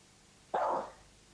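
A single dog bark, loud and close, sounding once on its own against a quiet background.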